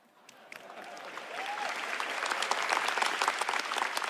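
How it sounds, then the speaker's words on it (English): A large audience at the COMPUTEX 2026 keynote in Taiwan breaking into applause, the clapping starting sparse and swelling into a loud, sustained roar of many hands. "And a round of applause for our pre-game show superstars"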